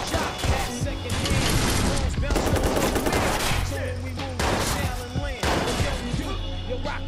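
Dense, continuous gunfire fills Watch Dogs, loud and close, with rapid automatic bursts and overlapping shots. Voices shout beneath the shooting.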